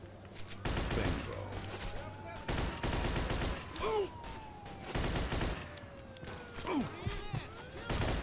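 Shotgun fire in the Mafia II video game, heavy bursts of gunshots in several loud clusters with pauses between, close, with a voice heard briefly.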